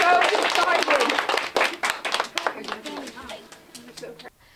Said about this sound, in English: Can you guys clap for Miss Parker?